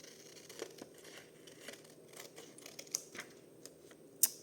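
Scissors snip through greenish blue paper in quick irregular cuts and crinkles, close and quiet, ending in a sharper final snip, with no talking.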